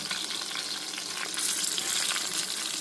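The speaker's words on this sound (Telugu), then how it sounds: "ఇది కొంచెం ఎర్రగా వేగాలన్నమాట మంచిగా వేగాలి" Green and dry chillies frying in hot oil in a pan, a steady close sizzle throughout that grows slightly louder and busier partway through, with no talking.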